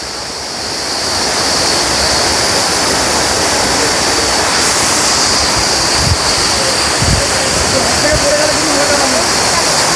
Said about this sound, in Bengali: এই যে ওপর থেকে জলটা আসছে, এই ওপর থেকে জলটা পড়ছে